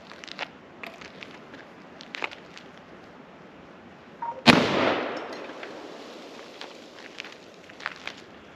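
A 7mm Remington Magnum Colt Ultra Light rifle firing a 175-grain load: one sharp, loud gunshot with a decaying outdoor echo, amid faint rustling and footstep sounds before and after.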